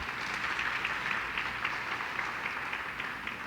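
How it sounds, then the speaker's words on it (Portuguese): A church congregation at a women's conference applauds warmly for a visiting pastor: a dense, steady wash of many hands clapping, sustained and fairly even throughout with no talk over it. "Aplauda a Senhor pela vida dela."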